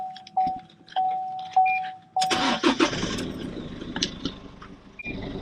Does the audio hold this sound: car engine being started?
yes